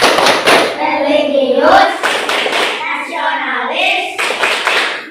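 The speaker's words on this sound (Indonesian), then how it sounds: "Kita tepuk PPK dulu." A classroom group claps the rhythmic tepuk PPK chant, sharp hand claps falling in a patterned beat while voices chant loudly in unison all the way through.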